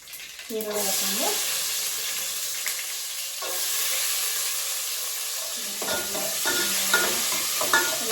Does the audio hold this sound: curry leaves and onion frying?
yes